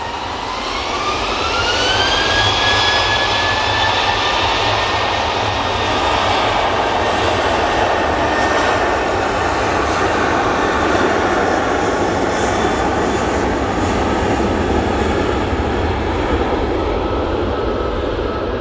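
A jet airliner departs Manchester Airport, its engines roaring loud and steady for a long stretch, with a rising whine at first, and no talk over it.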